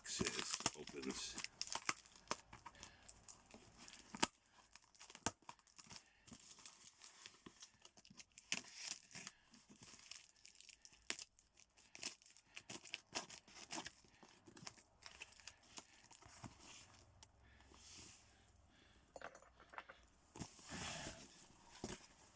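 A cardboard box is opened with bursts of tearing and crinkling packing paper, busy and close, while a person murmurs now and then.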